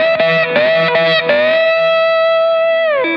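Slide guitar played with a slide ring and no right-hand string muting, a few quick distorted notes then one long sustained note that bends down at the end, strings ringing together with heavy overtones, close and loud.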